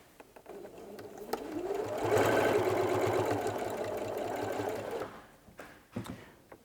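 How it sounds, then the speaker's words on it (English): Sewing machine stitching bias tape onto a fabric place mat, a steady whirring motor run that ramps up, holds for about three seconds, then winds down, framed by a few handling clicks, close and alone. "But then I'm going to sew it along that first iron mark there."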